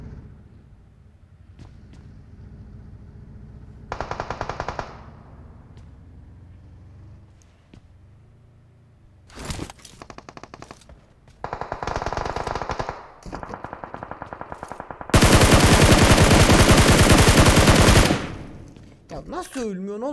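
Bursts of automatic gunfire in PUBG Mobile, several rapid volleys of varying length, with the longest and loudest sustained burst near the end, separated by quieter gaps.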